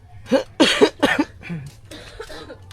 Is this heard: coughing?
yes